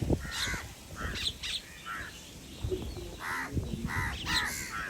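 Several crows caw in harsh, repeated bursts, some overlapping, at moderate distance over a steady outdoor background, gathering with mynas to eat boondi.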